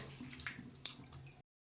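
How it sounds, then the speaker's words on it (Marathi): Flattened rice (poha) being rinsed in a bowl of water in a home kitchen, with soft continuous sloshing and splashing up close, ending in a brief silence. "आता हे पोहे आपल्याला दोन पाण्याने धुवून घ्यायचेत"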